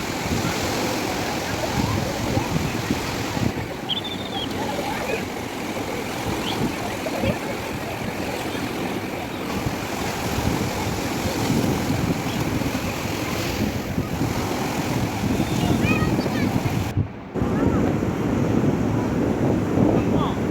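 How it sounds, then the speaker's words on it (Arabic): Sea waves roll onto the shore in a continuous roar with gusting wind buffeting the microphone, loud and close throughout. "اسمعوا صوت البحر كده واستمتعوا"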